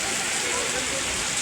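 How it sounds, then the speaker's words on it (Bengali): Steady rain falling outdoors at an ashram, a dense even hiss of drops close around with no breaks, filling the whole moment. "বৃষ্টিতে দেখুন আমি হাতের মধ্যে বৃষ্টি নিচ্ছি"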